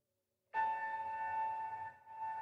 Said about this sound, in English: We'll hear one final bell, indicating that our time and practice have ended.